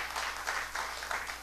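A church congregation claps briefly for the Lord in soft, steady applause with a low electrical hum beneath it.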